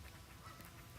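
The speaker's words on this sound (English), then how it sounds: "there are goosies and ducks all around here today" Ducks and geese on Lake Lanier, Georgia, at sunrise: a brief, faint quack or two over a steady outdoor background, with no talking.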